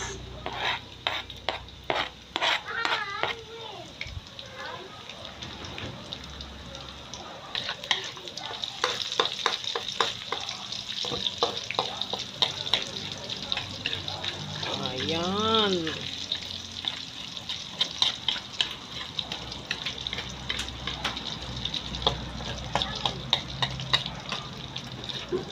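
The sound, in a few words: sautéing onions in a pan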